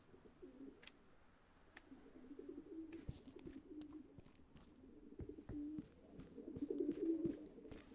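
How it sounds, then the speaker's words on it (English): Pigeons or doves coo in soft, repeated low calls within a quiet outdoor scene of the video game The Occupation, with faint chirps and rustles between them. "There are a lot of birds on this side."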